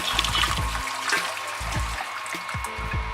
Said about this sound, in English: Gently pour some water in like this.